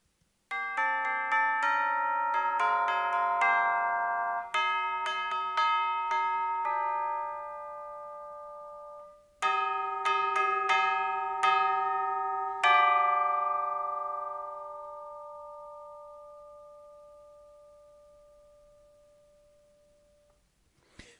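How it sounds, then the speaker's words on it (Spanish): Bright metallic orchestral bell tones struck with mallets one after another in a melodic run, with a pause, then more ringing notes that fade out slowly. "es un sonido a campana total"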